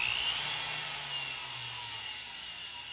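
Sanding tool spinning slowly under a router speed control, a steady high whine with a faint low hum, holding even and easing slightly quieter toward the end.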